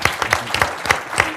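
Audience at a talks event applauding a guest speaker, with distinct, fairly regular claps standing out over a softer spread of hand-clapping, close and brief.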